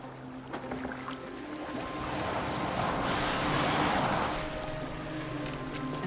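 A boat glides on open water in Assassin's Creed Valhalla, with soft splashing, waves and wind building to a louder wash midway and then easing off, with no talk heard.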